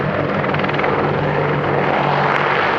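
An Apache gunship helicopter at an air show, its loud steady rotor and turbine roar filling the air continuously at close range.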